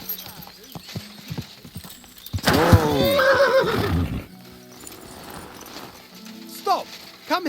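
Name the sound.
horse neighing in Kingdom Come: Deliverance II video game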